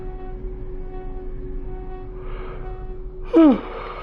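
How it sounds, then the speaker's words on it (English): One person gives a single short yawn near the end, a breathy rising and falling moan over a steady low hum. "I don't know why I'm yawning so much"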